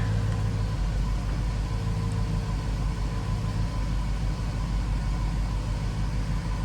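A GMC engine idles steadily at low volume, a smooth continuous low hum with no talk over it.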